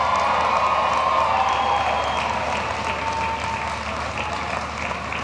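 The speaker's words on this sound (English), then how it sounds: "Turn and face your loved ones, and you give them a round of applause and thanks." A large commencement audience in Gentile Arena applauds graduates with dense, loud, sustained clapping that fills the arena and holds steady throughout.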